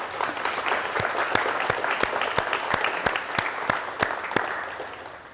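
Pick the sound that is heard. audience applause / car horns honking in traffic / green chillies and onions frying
audience applause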